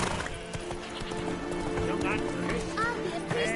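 Roach the horse galloping in The Witcher 3, rapid rhythmic hoofbeats running continuously under voices talking and a brief horse whinny.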